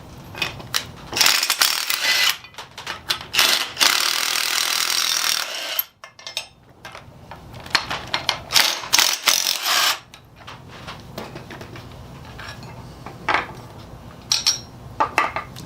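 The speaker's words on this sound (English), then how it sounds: "This impact wrench makes life ever so much easier." An impact wrench hammers out a jaw from a Nye pipe vise, with loud close bursts of rattling mechanical impacts that start and stop in uneven spurts, followed by softer metallic clinks and handling noise.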